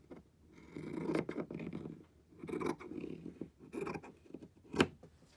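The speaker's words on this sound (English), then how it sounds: "with my big scissors, I'm going to cut that off" Large scissors make several rough cutting and rasping strokes through thick polar fleece, trimming off the selvage edge, close up, in uneven bursts with short pauses between.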